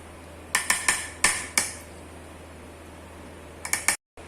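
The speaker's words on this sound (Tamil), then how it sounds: "இப்ப வந்து மூடி போட்டு மூடி வச்ச." A metal lid goes onto a pot of chicken biryani with a cluster of sharp clanks and rattles, a pause, then a few more quick clinks before it settles, near and clear over a low steady hum.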